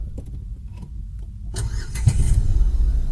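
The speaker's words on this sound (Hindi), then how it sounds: "मैं गाड़ी को करता हूँ 1 मिनट स्टार्ट।" A car engine cranks and catches about halfway through, settling into a steady running rumble after a quiet moment with faint handling noises.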